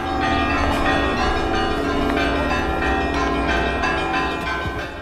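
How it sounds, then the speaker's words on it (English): Church bells ring continuously in Riga, Latvia, in early July 1941, as German troops arrive; overlapping peals and repeated strikes sound loud and full throughout. "The German troops are greeted with the ringing of church bells."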